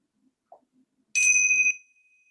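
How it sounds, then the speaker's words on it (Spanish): Small bells struck at the close of a meditation practice ring out clearly in a quiet room, one bright chime sustaining with a clear tone for about half a second before fading, with a faint soft tap just before. "Y cuando suenen las campanillas,"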